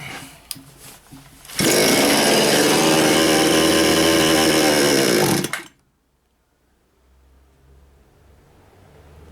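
A repaired Chinese gasoline chainsaw engine starts and runs loud and steady for about four seconds, then cuts off abruptly into near silence, after a few faint clicks.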